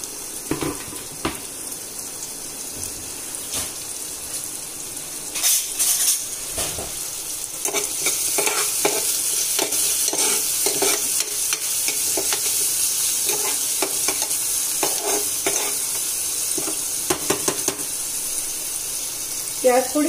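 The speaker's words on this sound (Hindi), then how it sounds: "अब हम प्याज को भून लेते हैं।" Onions frying in a pan with cumin give a steady, close sizzle throughout, broken by frequent scraping and clinking strokes of a spoon stirring them.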